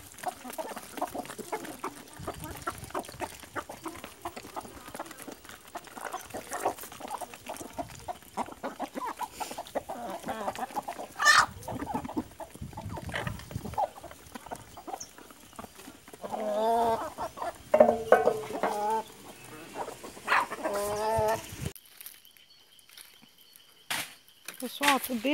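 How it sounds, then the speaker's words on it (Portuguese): Adult hens and a rooster on a Brazilian homestead cluck and chatter continuously at feeding time, a steady flock murmur with louder calls scattered throughout, a person speaking at times over it. "Agora a refeição das galinhas adultas."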